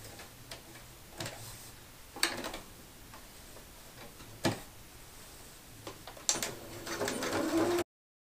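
A home sewing machine stitches around a tablecloth hem, sewing a card-table cover, in short mechanical runs broken by pauses and sharp clicks, with a longer, louder burst of stitching near the end before the sound stops.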